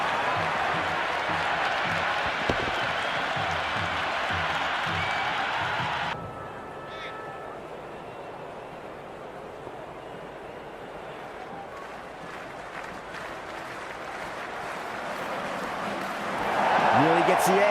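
Stadium crowd roaring in the Cricket 26 video game during an IPL match between CSK and MI, a loud sustained broadband cheer that drops to a lower murmur partway through and swells again at the end, with no voices heard.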